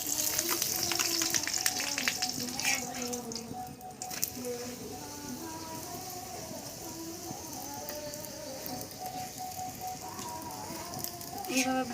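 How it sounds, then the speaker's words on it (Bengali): A roti frying in a pan for an egg roll gives a soft, continuous crackling sizzle with light spattering, fairly quiet and close, with faint voices in the background. "এইভাবে ভালো করে রুটি ভেজে নেব রুটিটাকে"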